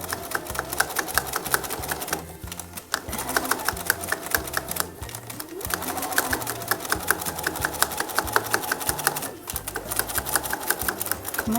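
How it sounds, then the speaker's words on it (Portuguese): Sewing machine stitching turned fabric for a small stuffed moose toy, a close, rapid, steady mechanical clatter running continuously with a couple of brief pauses. "temos o tecidinho virado e vamos começar a costurar"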